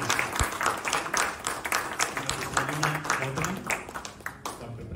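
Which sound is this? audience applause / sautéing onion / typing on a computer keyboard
audience applause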